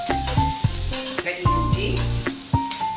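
Chopped onion fries in melted butter in a pan, a loud close sizzle broken by repeated utensil clinks and scraping against the pan, with no talk.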